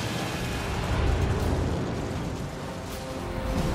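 Bombs from a carrier air attack detonate in World of Warships Legends, a sustained roaring, rumbling blast wash that stays loud and dense throughout with low booming weight.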